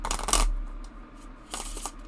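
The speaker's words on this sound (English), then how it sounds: "All right, so shuffling, very nice if you like the smaller size cards." A deck of small oracle story cards is shuffled by hand in two quick bursts of close papery riffling, separated by a brief quiet pause.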